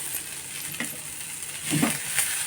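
Onion frying in a few spoons of oil in a pan for traditional Maharashtrian goda masala: a steady close sizzle with soft stirring scrapes, swelling briefly near the end, and no talking.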